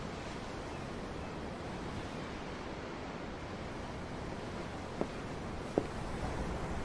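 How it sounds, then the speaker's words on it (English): Steady broadband rush of ocean waves and surf in the Tales of Arise video game, continuous and even throughout with two brief faint clicks near the end; no one speaks. "The ocean? Yeah. The waves."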